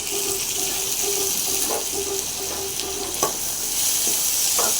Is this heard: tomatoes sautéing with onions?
yes